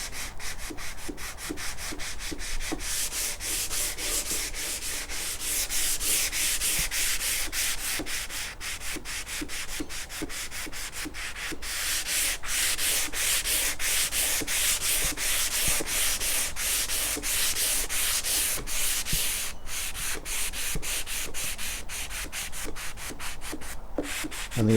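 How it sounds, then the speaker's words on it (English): Hand sanding of sanding primer on the wooden cabinet of a 1941 AWA Fisk Radiola Model 276: steady, close rasping strokes in a continuous rhythm with no talk. "there's nothing for it now but to start sanding off this sanding primer."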